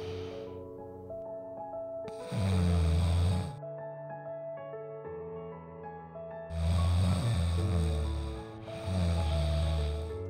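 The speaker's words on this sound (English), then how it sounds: "The world's first smart patch to quiet snoring noise." A person snoring in slow, loud rumbling bursts, three heavy inhalations separated by quieter stretches, set against a sustained tonal musical background.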